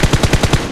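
Five evenly spaced, punchy shots ring out in quick rhythm in PUBG Mobile, loud and close with no talk, though the rapid repetition sounds more like automatic fire than a single Kar98k headshot.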